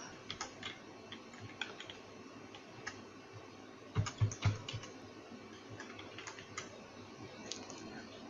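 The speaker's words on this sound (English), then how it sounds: "And I'm going to type my email address in this field." Steady light clicking of keys on a computer keyboard as an email address is entered into a login field, soft close-up taps with a brief denser burst midway, no voices.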